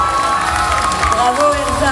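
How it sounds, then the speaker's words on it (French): A crowd at a cosplay contest awards ceremony bursts into applause and cheering, with claps and shouts blending into a dense, lively roar that holds for a couple of seconds. "veuillez applaudir Elsa Scarlett de Fairy Tail"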